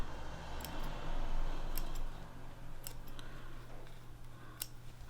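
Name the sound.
scissors trimming loose thread on a clutch bag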